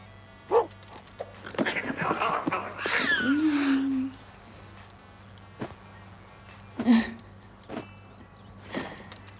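A cat gives a single drawn-out meow in the video game Lost in Play, among scattered clicks and soft thumps in an otherwise quiet setting.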